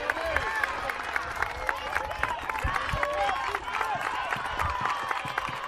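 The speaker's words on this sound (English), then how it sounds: "sacrifice bunt, one of my favorite plays because all the fans clap" Fans clapping at a high school softball game, Central Catholic at Catholic-Pointe Coupee, after a sacrifice bunt: scattered steady applause from the stands mixed with crowd voices and cheering.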